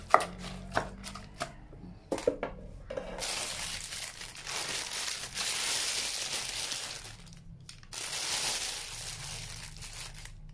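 A knife chops pork sharply on a board in a few spaced strikes, followed by quieter scraping and crinkling sounds, with faint speech in the background.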